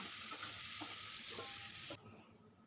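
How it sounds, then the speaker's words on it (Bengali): Potatoes and onions sizzle in a frying pan with a bright, hissing crackle and occasional stirring knocks, then the sound suddenly turns muffled and quieter as a lid covers the pan. "এবার পেঁয়াজ আলু ভালো করে ভেজে লাল করে নিতে হবে"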